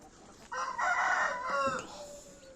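Chickens and young chicks clucking in a poultry yard while a rooster crows once loudly and close, its long call rising and falling over the softer background clucks.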